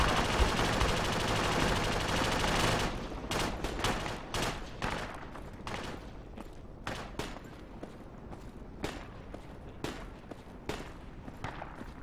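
Rapid bursts of sniper and automatic gunfire in the Project Reality military shooter, loud repeated sharp cracks in irregular clusters following a dense noisy opening stretch.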